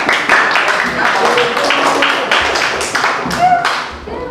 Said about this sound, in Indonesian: Kita kasih tepuk tangan sekali lagi yang keras untuk kelompok 2 ya